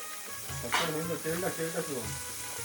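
Fish frying on a hot tava griddle, a steady close sizzle running throughout with short bursts of spitting and a voice talking over it.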